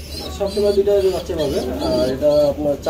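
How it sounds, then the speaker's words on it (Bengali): A pair of Barhuma pigeons with their chicks coo close by in soft, repeated, throaty murmurs that rise and fall continuously. "বারহুমা কবুতর দেখতে পাচ্ছেন"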